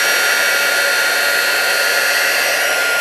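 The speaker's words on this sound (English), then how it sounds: "It heat embosses rather quickly with this heat gun" A heat gun blows a steady, loud, unbroken hiss of hot air while heat embossing cardstock, holding an even level throughout with no voices.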